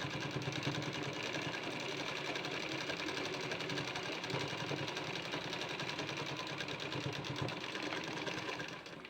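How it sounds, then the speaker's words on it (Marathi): A sewing machine runs steadily, stitching down a folded strip on a three-piece princess-cut blouse, its close, even whirring motor sound continuous for about nine seconds with no talk. "आता ही पट्टी आपल्याला थोडंसं दाब टीप मारून घ्यायची आहे."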